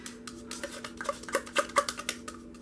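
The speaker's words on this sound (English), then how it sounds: "I want to go ahead and start dumping all of my regular oils into the bowl" A metal spoon clinks and scrapes against a bowl while regular oils are scooped in for a whipped mango body butter, with a quick run of close, bright taps and scrapes under a steady low hum.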